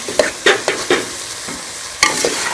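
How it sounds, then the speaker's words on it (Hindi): Grated carrots fry in desi ghee for gajar ka halwa, stirred in a pan with several distinct, close scraping strokes over a low sizzle, each stir a quick rasp spaced roughly half a second apart. "देसी घी डाल के इसको अच्छी तरह से भून लूँगी"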